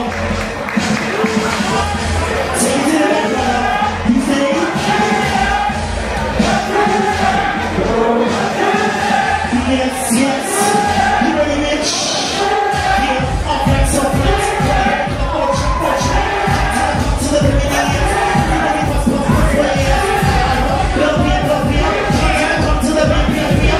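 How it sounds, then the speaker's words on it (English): Applause and cheering from a crowd at a Broadway-themed ballroom ball, a loud continuous wash of clapping and voices that swells midway with rhythmic claps under music. "Stand to the side, give her a round of applause."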